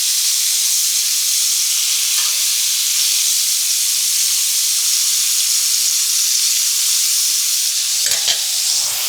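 Flipped chicken sizzles steadily on a grill pan, giving a loud, close, continuous bright hiss with a brief clatter near the end and no talking.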